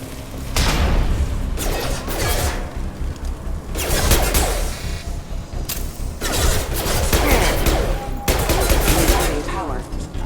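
Enemy gunfire in the Mass Effect 2 video game, rapid bursts from closing security mechs crackling in repeated volleys across the whole stretch, loud and near, with a game voice calling out over it.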